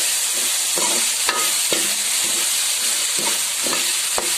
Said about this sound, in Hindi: आलू को थोड़ा सा हम फ्राई करेंगे